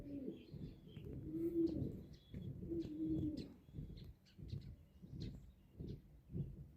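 Several pigeons coo in a home loft, a series of low rolling, throbbing calls repeating in uneven bursts nearby, with faint chirps in between and no talking.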